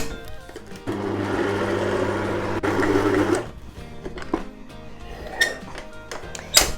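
An electric mixer runs on low speed through thick black buttercream icing, a steady mechanical whir with a low motor hum that cuts out briefly and resumes before fading to quieter clinks and handling noises.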